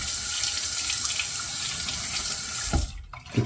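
Running water from a sink tap splashes steadily while a face is wetted, a close continuous rush that dips briefly near the end.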